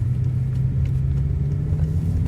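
A BMW with an S85 V10 engine and a swapped dual-clutch gearbox being driven normally, giving a steady, close, low engine drone and road rumble at an even pace without revving.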